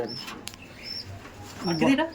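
Pigeons in a loft coo softly amid low background murmur, with a fuller, closer coo rising toward the end of the brief stretch.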